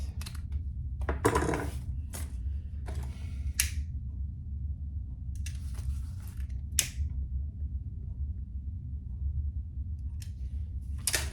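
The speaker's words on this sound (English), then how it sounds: "I'm cutting my excess zipper tape off on both sides" Scissors cut excess zipper tape off both sides of a crossbody bag, giving several short, crisp snips spaced irregularly over a quiet low background hum.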